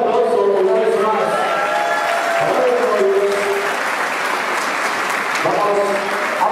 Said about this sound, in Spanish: un aplauso una vez más